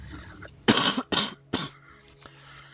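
Three harsh, close coughs in quick succession, each a short rasping burst, followed by quiet breathing and a faint throat sound.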